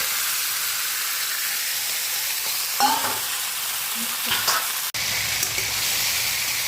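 Ridge gourd and potatoes frying in a pan give a steady close sizzle with a few louder stirring clatters partway through and a brief sharp knock near the end.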